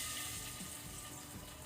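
Steady, quiet sizzle of frying in a pan while making dink laddoo (antina unde), a soft continuous crackle with faint stirring and no voices.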